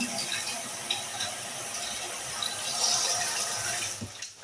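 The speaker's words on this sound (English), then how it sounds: "What I'm going to do, put the water in." Tap water running into a pan for boiling eggs, a steady close splashing stream that stops near the end.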